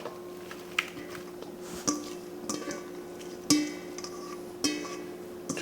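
Crab meat dropped into a big bowl of boiled, salted noodles dressed with olive oil, heard as soft, close clinks and soft squishy thuds at irregular intervals over a quiet kitchen background.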